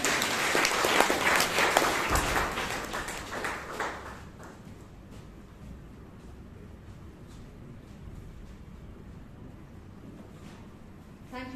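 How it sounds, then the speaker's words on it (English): Audience applause fills a Toastmasters meeting in Bangalore, loud and dense for the first few seconds, then thinning into scattered claps and fading to a quiet room murmur. "Let's give a huge round of applause"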